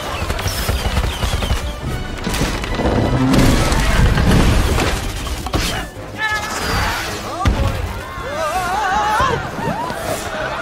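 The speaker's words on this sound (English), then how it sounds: "How often do you get to see fireworks this close?" Loud, dense bursts of booming and crackling explosions continue throughout, with whistling rising tones and scattered excited voices in the background.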